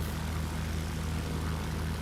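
A Junkers F 13 propeller plane's engine in a flight simulator drones steadily and loudly, with a fast, even propeller pulse running through the whole short stretch.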